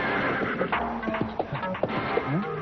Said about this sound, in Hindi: ये घोड़ा